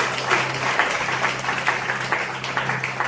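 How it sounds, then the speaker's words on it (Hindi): A church congregation at a Hindi-language sermon applauds loudly, a dense, steady wash of many hands clapping for the full stretch, with a low electrical hum underneath. "जोरदार ताली बजा के तारीफ करें"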